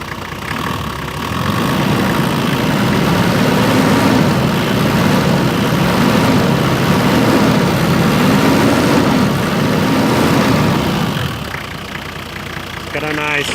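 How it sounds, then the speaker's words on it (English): A Toyota Land Cruiser 77 (HZJ77) diesel engine revs close by, its deep rumble rising and falling in several slow surges before settling back toward idle near the end. "So let's rev it up and see how it sounds."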